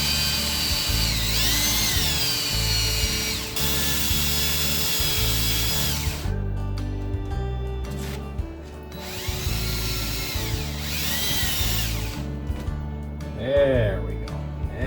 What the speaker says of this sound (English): I think polishing this edge will allow it to turn easier